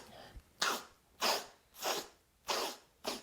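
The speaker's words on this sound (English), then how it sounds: "is you really sniff the oil up" Nasal oil sniffed sharply up the nose in five quick, forceful breathy inhalations at an even rhythm, each about half a second apart, close and fairly loud.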